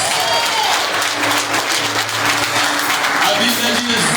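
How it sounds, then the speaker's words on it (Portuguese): A worshipping congregation at a church service breaks into loud, continuous applause, a thick wall of clapping hands with scattered voices and cheers woven through it. "Quantos podem aplaudir Jesus?"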